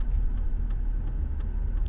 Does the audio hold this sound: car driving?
yes